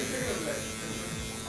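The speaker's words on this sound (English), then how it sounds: "Pull out a trimmer and get the edges done here." Electric hair trimmer edging a haircut, a close, continuous buzz running throughout with a voice faintly mixed in.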